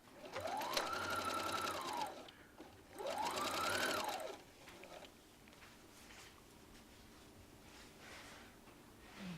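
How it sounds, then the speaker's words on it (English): Sewing machine stitching strips of quilt fabric together for a lap blanket, running in two loud, steady bursts of a couple of seconds each, whirring up and down in speed, then stopping, leaving quiet room sound. "you're going to sew 5 of those strips together"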